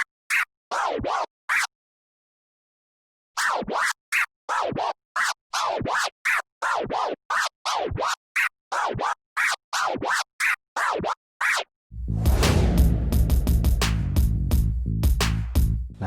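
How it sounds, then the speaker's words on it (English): Turntable boomerang scratch worked with a crossfader: rapid, choppy record cuts in quick rhythmic bursts, a pause, then more clipped strokes before a dense, sustained stretch of scratching at the end. "start incorporating faster or slower record hand movements to create different tones and textures within the Boomerang Scratch"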